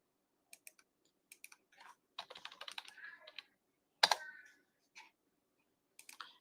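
Bursts of typing on a computer keyboard while editing a banner, scattered clicks then a busier run of keystrokes and a sharper clack, close and fairly quiet with pauses between.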